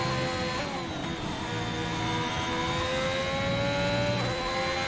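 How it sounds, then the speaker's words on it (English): Formula 1 car engines in an F1 video game race at Britain whine at high pitch, revving and shifting steadily with sustained tonal howls, continuous and fairly loud with no talking. "Engines sound good now"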